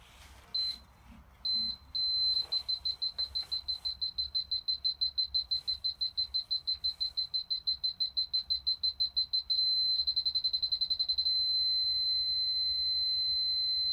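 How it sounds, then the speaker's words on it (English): A profile-marking gauge device gives a long run of rapid, evenly spaced high electronic beeps, close and clear, shifting to a faster and then steady tone near the end, with faint background noise underneath. "wait for the beeps"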